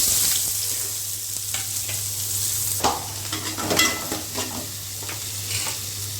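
Mustard seeds, asafoetida and onions frying in hot oil in a pan: a steady crackling sizzle runs throughout, broken by several sharp stirring scrapes, with a faint low hum underneath.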